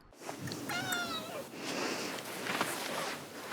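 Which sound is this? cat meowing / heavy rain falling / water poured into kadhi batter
cat meowing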